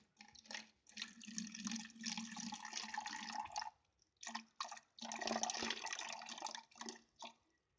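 Water is poured carefully into a water level indicator, splashing and trickling in long pours broken by short pauses and a few brief spurts, close and fairly quiet.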